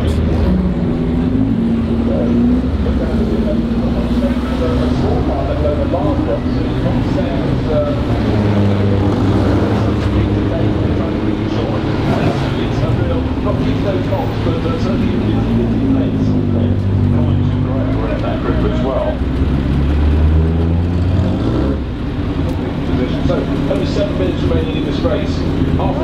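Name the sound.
1930s Bentley Blower race car approaching at Goodwood Revival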